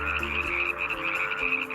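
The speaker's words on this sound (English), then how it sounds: "Very iconic little frog" Small desert-wetland tree frog croaking steadily close by, a continuous buzzy trill with a sustained high tone, pulsing slightly in loudness throughout, no voices.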